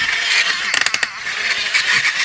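A vintage Batman toy car with its original control and bat stickers runs its small electric motor roughly, a steady whirring grind broken by a quick burst of ratcheting clicks near the middle, close and fairly loud.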